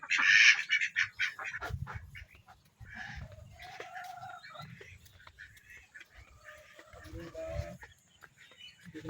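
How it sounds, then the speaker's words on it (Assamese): Ducks on a rural farm in Assam, with quacking calls and bird noises mixed with other fowl sounds, nearby and moderately loud, alongside background farmyard activity. "হাঁহকেইটা কি কৰিছে চাওক, দিছে।"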